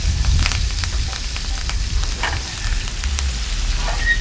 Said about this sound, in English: More or less just basting that luscious piece of meat in a bunch of